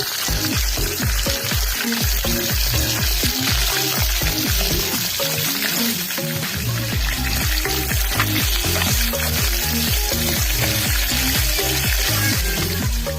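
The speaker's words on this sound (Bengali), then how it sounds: "মাছগুলো ভাজা হয়ে গেছে, এবার আমি মাছগুলো তুলে নেব।" Fish frying in hot oil in a home kitchen, a loud, close, continuous sizzle with rapid crackling and spitting, steady throughout with no talking.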